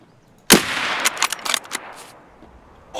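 Rapid video game gunfire erupts loud and close in a sustained burst of shots, then trails off into quieter scattered rounds and near silence.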